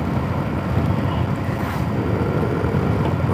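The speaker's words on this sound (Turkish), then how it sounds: "Rüzgar arkamızdan gelmesi en büyük avantajımız" Strong tailwind roars steadily across the microphone on the road in Russia's Volgograd region, a loud continuous rush with low buffeting and no voices.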